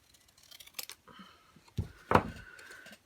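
Scissors cutting something in half: a couple of crisp, close snips near the end after a few faint rustles, with no talking.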